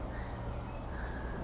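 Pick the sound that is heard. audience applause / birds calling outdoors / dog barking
birds calling outdoors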